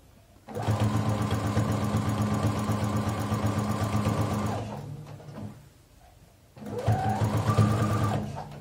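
A sewing machine stitches the mitred edge of a fabric placemat in a steady, loud mechanical whir, running for about four seconds, pausing, then starting up again.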